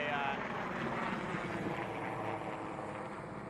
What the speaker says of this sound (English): one of those helicopters just took off from Penticton Airport and flew right over my head here